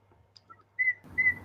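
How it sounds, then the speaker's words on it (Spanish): Ancestral ceramic whistling bottle with an inner whistle and resonance chamber gives two clear, steady high whistle tones, each about a quarter second long, the second followed by a breathy rushing noise. "la botellita y el silbato que está dentro con su cámara de resonancia"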